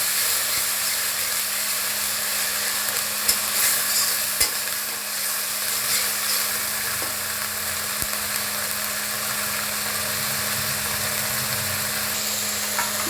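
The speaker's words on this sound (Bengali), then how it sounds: "দিয়ে এটাকে ভালো করে তেলের সাথে ফ্রাই করে নেব।" Prawns fry in hot oil with onion paste in a pan, giving a continuous sizzle with occasional scraping and clinks of stirring, steady and close throughout.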